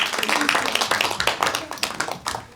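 An audience at a Hwaseong disability family speech contest claps to welcome the next presenter, producing a dense, steady patter of many hands from the start that thins slightly toward the end, loud and close.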